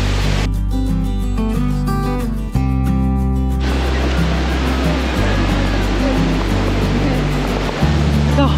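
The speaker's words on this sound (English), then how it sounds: "This is the bottom of that waterfall we saw from the top." Waterfall near Sapa, Vietnam, heard from its base: a loud, continuous broadband rush of falling water, with heavy low rumble and steady roar filling the whole stretch.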